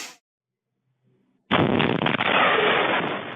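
After a near-silent pause, a transformer fire sets off one very loud explosion: a sudden broadband blast that holds as a dense roar until the end.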